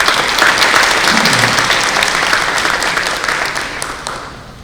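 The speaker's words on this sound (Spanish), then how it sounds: "Un aplauso para Jenny, por favor." Sustained applause from an audience at an agricultural panel session in Peru, steady and dense at first, then gradually thinning toward the end.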